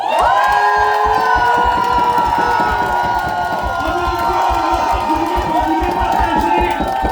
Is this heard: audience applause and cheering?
yes